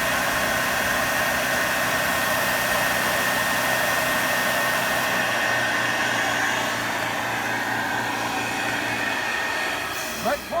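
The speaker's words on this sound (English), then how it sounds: "you could actually rinse and clean and do a little pressure washing on someone's grout line with this tool" A pressure washer running at 300 psi to clean tile grout gives a steady, loud hiss and motor drone that continues unbroken, easing slightly near the end.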